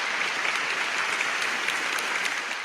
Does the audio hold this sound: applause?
yes